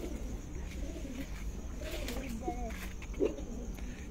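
Lakha pigeons in a breeder's loft give low, quiet coos over a steady background rumble, with a brief brighter call near the end.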